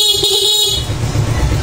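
A single steady stock horn blast from a Suzuki Smash motorcycle, loud and close, lasting under a second before cutting to engine idle and rumble.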